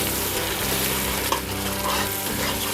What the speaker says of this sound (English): we're going to go ahead and put in 2 cups of beef stock